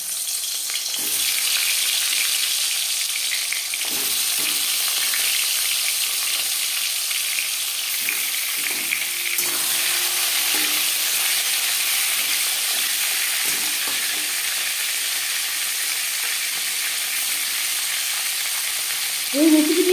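Shol fish pieces frying in hot refined oil give off a steady, loud, broad sizzle lasting throughout, with faint scattered crackles and a brief clatter near the end.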